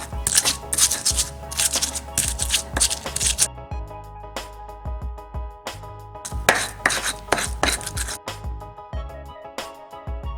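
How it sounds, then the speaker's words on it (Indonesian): Spice paste ground in a stone ulekan mortar, with repeated rough scraping and grinding strokes in quick bursts and brief pauses, close and fairly loud, a faint background hum, no talking. "Ulek bumbu hingga halus"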